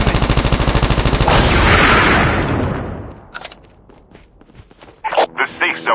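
Rapid automatic gunfire from a zombie-shooting video game rattles loudly for over two seconds, then fades into scattered footsteps and a few sharp bursts toward the end.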